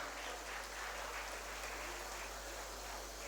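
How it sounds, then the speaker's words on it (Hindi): Steady applause from an audience at a labour award ceremony in honour of a recipient, a dense even patter of many hands held at moderate level for the whole span, with no voices over it. "जोरदार तालियां इनके लिए बजाई जाए।"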